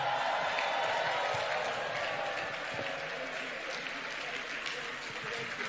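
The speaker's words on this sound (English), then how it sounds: "All the inductees, please stand up and clap for yourselves." Sustained applause from a large crowd at an induction ceremony, loud and steady throughout, with a faint murmur of voices.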